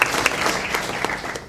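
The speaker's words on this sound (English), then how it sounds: "a round of applause for her family" Brief burst of clapping from a small audience at a school board meeting, steady and close, with no voices.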